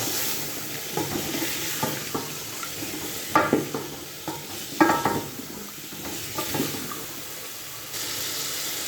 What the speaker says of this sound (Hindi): अब हम इसमें आलू डालेंगे। आलू डाल के एक बार इसको हिलाएंगे अच्छी तरह।